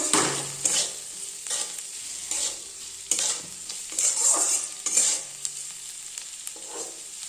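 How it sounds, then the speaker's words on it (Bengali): Gourd peel and potato fry in mustard oil with dried red chillies, a steady sizzle broken by repeated scraping stir strokes from a spatula in the pan, close and with no talking. "শুকনো লঙ্কা সর্ষের তেল দিয়ে এটা ভাজবো"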